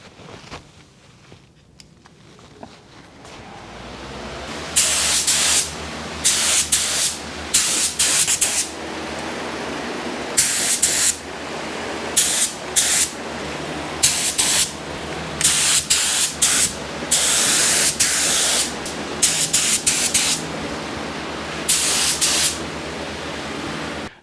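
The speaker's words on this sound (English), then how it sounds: "So now I just gotta come over and mix this bad boy up and we'll be ready to spray." A spray gun sprays paint on a 1953 GMC in a ventilated work area. Loud, close, broadband hissing comes in repeated bursts of a second or two with short pauses between passes, above a steady lower hiss of air and no talk.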